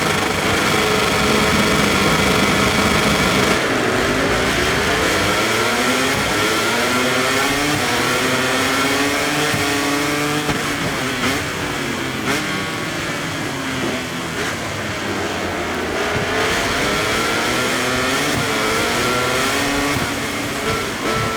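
Honda MotoGP bikes race on a wet track in the MotoGP 24 video game, with a loud, continuous high-pitched engine whine rising and falling through gear changes as several machines scream past close by.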